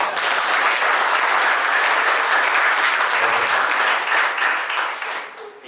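Strong, continuous crowd applause for a speech at a Deepam charitable trust event featuring actor Dhamu, many hands clapping together loudly before fading toward the end.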